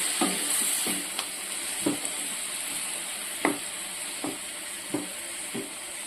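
Grated bottle gourd sautéed over a low flame for halwa gives a soft, steady sizzle with a faint hiss underneath. Occasional sharp scrapes and clinks from stirring land at irregular intervals, and no one speaks.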